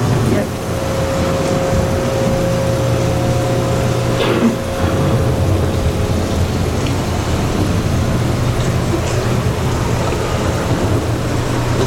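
A simulated thunderstorm on EPCOT's Living with the Land boat ride: steady heavy rain hiss with deep rolling thunder rumbles, loud and continuous, with a brief crack partway through and faint voices in the background.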